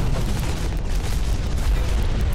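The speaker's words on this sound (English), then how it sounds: "Oh yeah, also explosions. So many explosions." Continuous heavy booms and rumbling blasts from explosions in the mech combat video game Hawken, dense and loud with no gaps, dominated by deep low-end roar.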